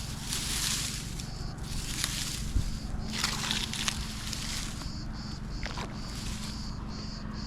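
Water running through a cleared irrigation channel around olive trees, a steady sloshing broadband flow that carries on without pause, close and moderately loud, with no talking.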